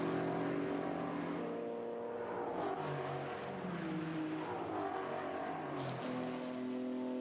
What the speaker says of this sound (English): Race leaders accelerating to turn 27.